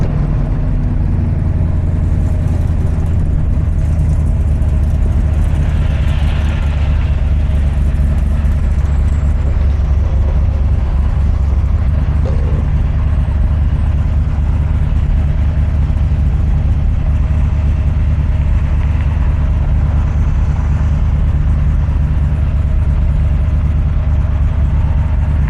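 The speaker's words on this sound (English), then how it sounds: "This has got a 347 with 2 carburetors, which is honestly one more than it needs" A Cobra with a 347 engine and two carburetors runs loud and close, holding a steady low rumble throughout with a slight rough edge.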